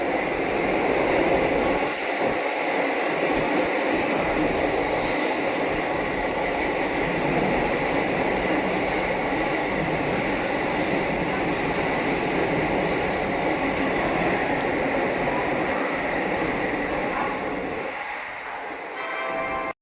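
A Vande Bharat train overtaking at Tundla Junction gives a loud, steady rumble of rolling wagons across the whole stretch, a continuous wash of wheel and rail noise that eases slightly near the end.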